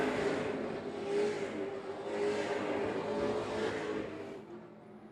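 Race cars speed around a racetrack in a ReCar 150 event, engines droning and swelling in waves as cars pass at a moderate distance, fading slightly at the end.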